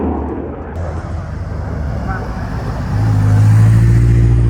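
A BMW Z3's engine roars steadily nearby while drifting, its drone building and growing louder toward the end, with road noise beneath.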